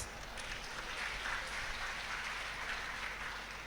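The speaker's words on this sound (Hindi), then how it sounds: "ऐसा नहीं दे तो ताली धीरे से बजी" Audience at a Hindu satsang clapping steadily, a soft continuous patter of many hands without a break, fairly quiet and diffuse as from a crowd in a hall.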